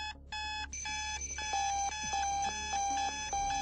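An electronic alarm clock rings in a repeating pattern of bright, high beeping tones, steady and clear with nothing else around it.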